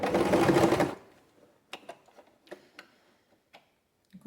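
Sewing machine running briefly in one loud, fast burst of stitching on fabric for a pencil case, then stopping, followed by scattered quiet clicks and handling noises.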